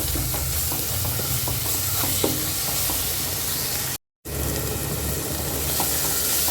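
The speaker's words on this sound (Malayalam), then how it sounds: "കാശ്മീരി മുളക് പൊടി മല്ലിപ്പൊടി മഞ്ഞൾപ്പൊടിയും കൂടി ചേർത്ത് കൊടുക്കുന്നു നന്നായിട്ട് ഇളക്കി കൊടുക്കാം" Kashmiri chili, coriander and turmeric powders being stirred in a hot pan of oil, a loud, continuous close sizzle with rhythmic spoon scraping, briefly cut by a moment of silence, with no voices.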